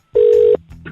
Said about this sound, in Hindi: निकिता मैं फोन कर रहा हूँ आपके हस्बैंड।